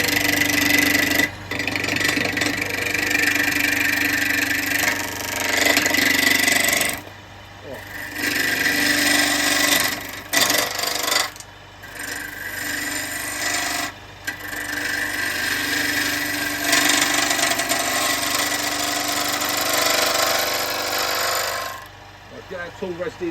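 A wood lathe turning a monkey puzzle bowl blank, a steady loud rasping whir of the spinning wood with brief pauses, close by, with someone talking in between.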